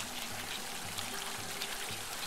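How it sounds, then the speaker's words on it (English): A cartoon water cannon sprays a steady stream in a Paw Patrol video game as Marshall fills a hole to rescue baby ducks; a continuous pouring, trickling wash with a faint repeating low tone of game music underneath. "help Marshall use his water cannons to fill up that hole and rescue the baby ducks"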